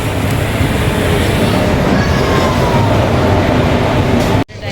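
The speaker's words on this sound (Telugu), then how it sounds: "ట్రైన్ వచ్చేసింది." A train pulling into a railway station, a loud sustained rumble and clatter of rail cars that drops out abruptly near the end, with no talk.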